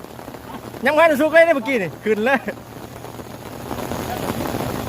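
Someone speaks briefly, then steady rain patters on a surface near a Ford 7840 farm tractor, growing slightly louder toward the end.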